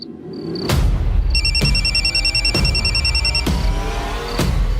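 A mobile phone rings loudly and close in an indoor TV drama scene, with a repeating electronic ringtone and sharp periodic tones that keep going for several seconds, with no voices.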